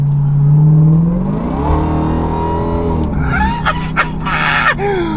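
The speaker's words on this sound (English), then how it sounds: "That's just straight pipe, dude." A 2023 Dodge Durango Hellcat with its muffler deleted revs loudly up close, the straight-piped engine note rising through a long sweep, then sharper blips and crackles follow as excited voices shout over it.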